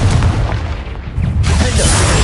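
A Confringo spell explosion in Hogwarts Legacy: a loud, close, booming blast with heavy low rumble, briefly dipping before a second surge of roaring noise.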